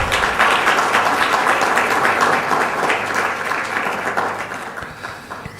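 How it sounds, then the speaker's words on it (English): An audience at an African operations management conference breaks into dense, loud applause that holds steady for several seconds, then fades. "And that deserves a big round of applause."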